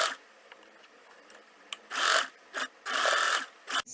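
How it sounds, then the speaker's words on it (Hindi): A home sewing machine stitches a sleeve bottom and cuff in short bursts of rapid whirring, close and clear, separated by quiet pauses. "इस तरह से इस पे सिलाई करेंगे स्लीव बॉटम और कफ की।"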